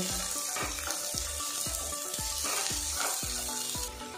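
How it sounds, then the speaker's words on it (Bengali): Snake gourd being stirred and fried in a pan, a continuous close sizzle with a regular beat of roughly eight spoon knocks, one about every half second, and no voices. "কিছুক্ষণ নাড়াচাড়া করে নেব, তারপর আমি লবণ অ্যাড করে দেব।"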